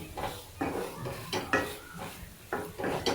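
Ridge gourd and tamarind being stirred in oil in a pan, a utensil scraping and clanking against the metal in repeated strokes about once a second, with a light sizzle underneath and no talking.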